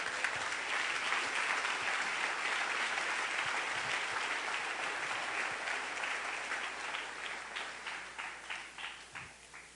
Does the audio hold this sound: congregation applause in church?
yes